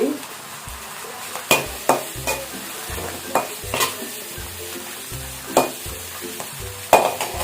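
Thoothuvalai (Solanum trilobatum) leaves sauté in a pan with a soft, continuous sizzle, broken by irregular sharp scrapes and knocks of a spatula stirring against the metal. No voices.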